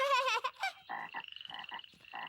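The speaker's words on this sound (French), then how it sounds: "Et ça, c'est leur papa la grenouille." A cartoon frog croaks in a quick run of bright, ribbed calls, close and clear after a short high squeaky burst, with no talk over it.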